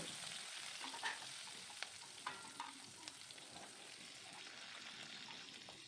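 Mustard seeds, asafoetida and vermicelli upma ingredients fry in hot oil for tempering, giving a steady sizzle with crackling pops and a few sharper spatters and stirring clicks throughout.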